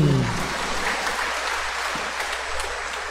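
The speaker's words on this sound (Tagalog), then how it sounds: "Palakpak yapon." A congregation at a Misa de Gallo novena Mass applauds in a dense, even wash of clapping that carries on steadily throughout, fairly soft and slightly distant.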